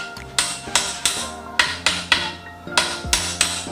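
A hammer strikes window trim in a bedroom remodel, about a dozen sharp, close knocks in uneven pairs and clusters, with no talking.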